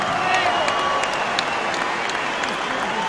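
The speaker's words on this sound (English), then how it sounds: "a round of applause for two boxers who gave everything" Arena crowd at a professional boxing match applauding after a twelve-round bout, a steady wash of dense clapping with faint crowd murmur, fairly near and even throughout.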